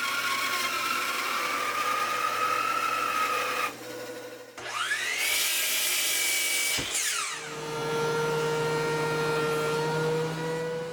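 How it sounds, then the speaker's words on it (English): Shop-built bandsaw roughly cutting solid ash wood to size, a steady whining motor hum with changes in pitch as the blade enters and leaves the cut, close and continuous without speech. "I'll roughly cut that to size on the bandsaw that I just finished making"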